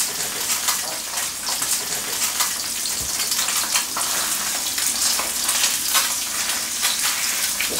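Sea bass fillets sizzle skin-down in a hot pan, a steady dense crackle and hiss filling the whole stretch at an even, fairly loud level, with no voices over it.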